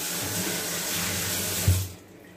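Water runs from a kitchen tap over washed dishes, a steady close splash that stops abruptly near the end.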